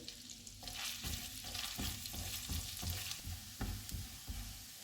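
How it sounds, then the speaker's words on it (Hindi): Garlic sizzles steadily in hot butter over medium-low heat while a utensil scrapes and stirs the pan in repeated strokes, close up with no talking. "चूल्हे को मीडियम लो रखेंगे और इसको 1 से 2 मिनट तक फ्राई करेंगे।"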